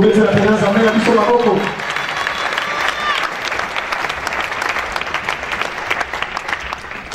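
A church congregation at a French-language service breaks into loud applause and cheering for the Lord, following a spoken line, the clapping sustained and dense throughout, crowd voices woven in.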